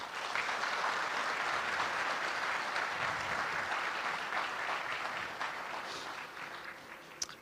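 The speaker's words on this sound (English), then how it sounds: "Let's give another big applause for them." Steady applause from an audience at the Bangladesh Investment Summit 2025 inauguration ceremony honoring presented guests. It is dense and sustained, then gradually tapers toward the end.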